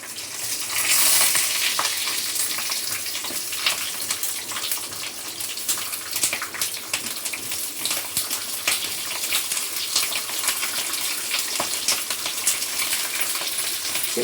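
Stuffed capsicum peppers fry in chilli oil in a pan, a loud, steady sizzle running throughout with occasional stirring crackles and no talking.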